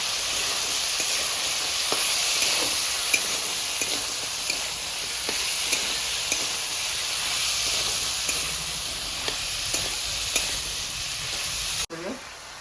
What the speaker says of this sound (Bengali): এবার একটু আদা জিরা বাটা ভালো করে কষিয়ে নেবো তাকে